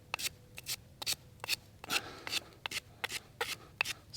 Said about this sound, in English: So grind down a bit of a platform here.